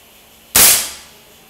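A single sharp shot from a PCP air rifle filled to 60 bar cracks out loudly after a quiet moment, then fades quickly.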